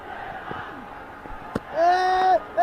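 A cricket crowd at a UAE vs Nepal match cheers for Nepal with a rumbling roar, then a loud, sustained chant or shout swells near the end.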